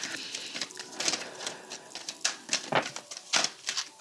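Tarot cards are drawn from a deck and laid out one by one, giving soft, close papery slides, flicks and taps in an irregular series with no talk.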